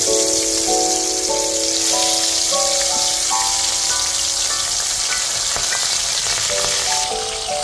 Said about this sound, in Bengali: আর একটা একটা করে পার্শে মাছ তেলে ছেড়ে দিলাম